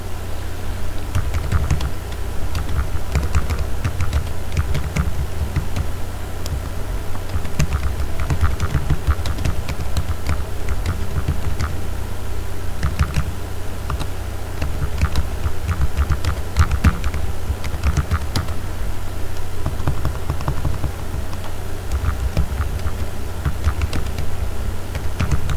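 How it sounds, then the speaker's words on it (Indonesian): Typing on a computer keyboard, continuous rapid clicking of keys at a steady, busy pace for the whole stretch, close and fairly loud over a low background hum, with no talk. "coba saya ketik ya"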